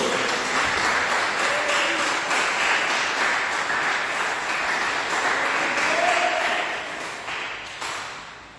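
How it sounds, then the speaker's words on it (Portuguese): Church congregation applauding joyfully during a service, a steady crowd of clapping that fades toward the end. "Dê uma salva de palmas bem alegre para Jesus."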